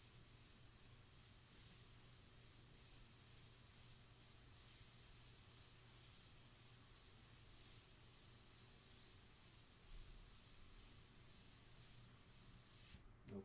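Airbrush test-sprayed before painting a portrait, a faint steady airy hiss running continuously for several seconds with a low hum beneath, then cutting off abruptly at the end.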